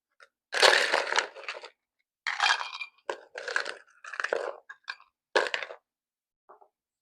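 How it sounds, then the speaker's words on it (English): Ice cubes go into a rocks glass while a whiskey smash cocktail is being made: a close series of crunchy cracks, clinks and clatters in separate bursts, with silent gaps between them. "We are going to put ice in our rocks glass."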